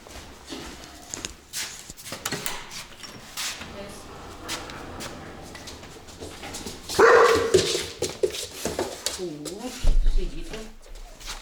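A female Belgian Malinois being socialised barks and whimpers in short bursts amid a handler's speech, with louder yelps near the middle and end.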